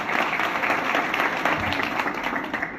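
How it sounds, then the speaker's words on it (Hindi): A live comedy show audience at a Kunal Kamra set breaks into loud, continuous applause, a dense roar of many hands clapping with no pauses. "हमारे ठाकर जी को जोरदार तालियां इनके लिए"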